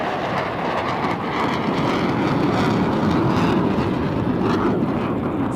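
F-18 fighter jet passing over an airshow at Huntington Beach, a steady, loud, broad jet roar that holds without a break throughout.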